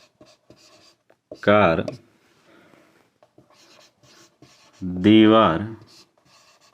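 A pen scratches softly on paper during a Class 9 mathematics lesson, faint and close, between two loud stretches of someone speaking Hindi.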